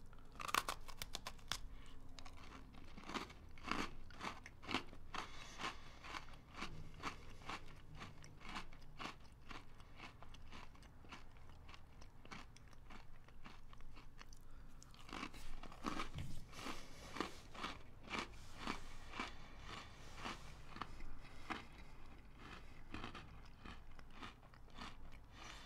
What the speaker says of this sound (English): let's try out these Lady Gaga Oreos.